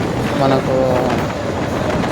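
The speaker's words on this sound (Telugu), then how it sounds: "ఇప్పుడు ఈ రైలు వెళ్ళేదే 2 కిలోమీటర్ల సొరంగ మార్గం." A train rumbles loudly through a 2 km tunnel in the Nallamala hills between Giddalur and Nandyal, a dense continuous roar with a brief voice speaking over it.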